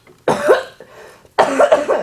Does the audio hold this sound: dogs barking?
no